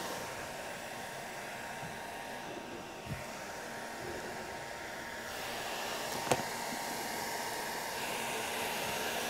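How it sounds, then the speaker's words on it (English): A hair dryer blows with a steady whooshing whine, close and continuous, with a couple of faint clicks partway through. "He's going to get a hair dryer."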